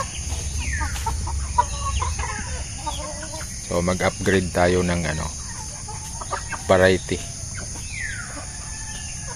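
Hens cluck and a rooster calls in a busy farmyard, with someone talking over the birds and steady background hum.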